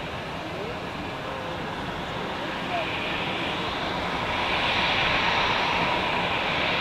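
Edelweiss airliner arriving at Zurich airport, a broad steady jet roar that swells gradually louder as it approaches, heard from an observation deck.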